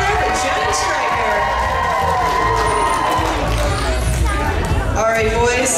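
A stadium crowd at a dolphin show at Gulf World in Panama City Beach cheers loudly for the dolphins Jet and Stryker, sustained roaring and children's shouts filling the whole stretch.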